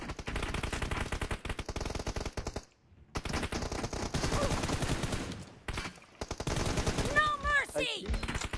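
Rapid automatic gunfire in a competitive video game scrim, dense near bursts of rattling shots with short pauses, ending with a few electronic pings, while players talk over it.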